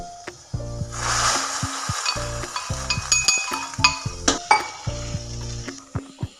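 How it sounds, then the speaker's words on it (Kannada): Fried cashews and raisins going into hesarubele payasa in a pan: sizzling runs under repeated sharp metal spoon clinks and scrapes against the vessel, close and fairly loud. "ಈಗ ಫ್ರೈ ಮಾಡಿರೋಂಥ ಗೋಡಂಬಿ ದ್ರಾಕ್ಷಿನ ಪಾಯಸದಲ್ಲಿ ಸೇರಿಸೋಣ"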